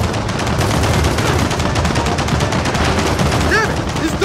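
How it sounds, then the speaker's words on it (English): Rapid, continuous turret machine gun fire in the Gears of War 4 video game, a loud, dense stream of shots with heavy low rumble, and a brief voice near the end. "Hold up! There's a turret!"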